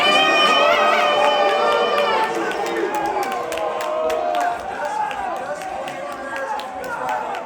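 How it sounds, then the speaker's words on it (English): A crowd at a boxing press conference for a boxer cheers and shouts loudly, with a voice speaking over the noise near the start. "Y'all can boo or y'all can cheer."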